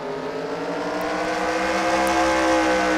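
Stock race cars roar around a Toronto street circuit at Exhibition Place, their engines holding a loud, steady, high-pitched drone throughout.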